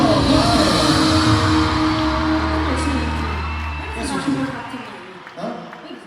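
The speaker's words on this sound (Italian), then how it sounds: "Allora, applauso!" Concert crowd at the Palapartenope arena cheers and applauds loudly, a broad wash of clapping and whoops under a sustained musical tone and voices, fading gradually toward the end.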